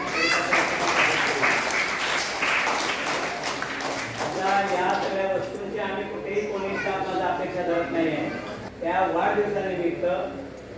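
A school crowd claps at a 78th Independence Day event honouring a pupil's birthday. Dense, loud applause fills the first half, then thins out as a voice speaks over the fading claps.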